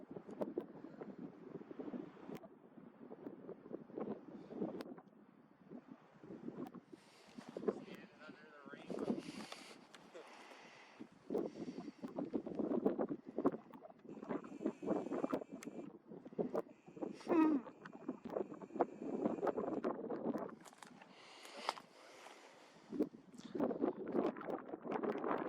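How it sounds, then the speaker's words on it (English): Cold mountain wind gusts and buffets the microphone continuously during a mule deer hunt in British Columbia, a loud rumbling roar that rises and falls throughout. "Windy and cold."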